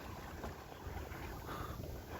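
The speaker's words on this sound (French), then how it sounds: "on a un petit vent là" Wind buffeting the microphone in a constant broad rush, steady and fairly loud throughout, while sailing on the bay of Le Havre.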